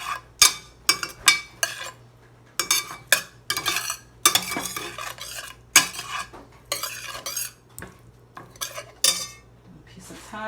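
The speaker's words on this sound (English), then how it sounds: "Give it a little stir." A spoon stirs veggie burger filling with garlic powder in a pan, making repeated close scraping and clattering strokes in irregular bursts, with brief pauses and a faint sizzle underneath.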